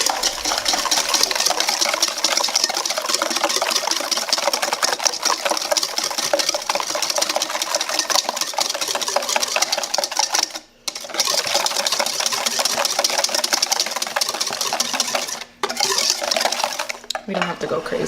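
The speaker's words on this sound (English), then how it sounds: "we're gonna whisk them all together" Mousse ingredients being whisked together in a bowl, a loud, continuous fast whirring like an electric mixer, running steadily with two brief pauses.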